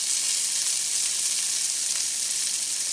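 Rainbow trout fillets frying skin-side down in a pan: a steady, loud, close sizzle with a dense hiss that holds evenly throughout, no talk.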